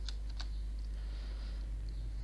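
A few quick keystrokes on a computer keyboard while a file name is typed, then a pause. The faint clicks sit over a steady low electrical hum.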